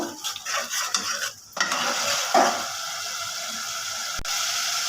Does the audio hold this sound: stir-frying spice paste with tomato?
yes